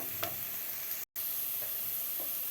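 Onions sautéing in a pan, heard as a close, steady sizzle with soft stirring scrapes, cut by a brief moment of silence and no voices.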